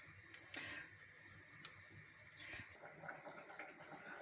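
Water at a vigorous rolling boil in a thermal cooker pot, giving a steady low hiss and bubbling texture with faint irregular pops throughout.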